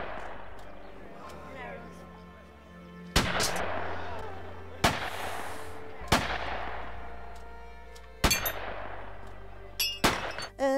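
Rifle shots fired at plaster figures during a shooting-painting art performance, several sharp loud cracks spaced a second or two apart, each ringing out with a long echoing decay over a quieter hum.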